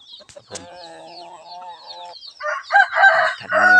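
Chickens cluck and squawk close by, a sustained crowing call followed by louder overlapping clucks and cackles.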